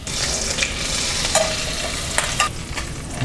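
A stick of butter melts in olive oil in a warming pan, giving a steady, close, bright sizzle with a few faint clinks and no voices.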